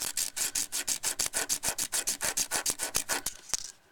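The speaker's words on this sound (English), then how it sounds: "rub it on some sandpaper, get all that black corrosion off" A corroded electrical switch contact is rubbed back and forth on sandpaper to scrub off black corrosion, a quick, steady rasping rhythm of about twenty close, fairly loud strokes.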